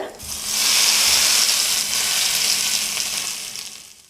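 Hot oil tempering of cumin, chilli and curry leaves poured into mango chutney sets off a loud, bright, hissing sizzle that surges within half a second, holds, then slowly fades.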